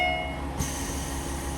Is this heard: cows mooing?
no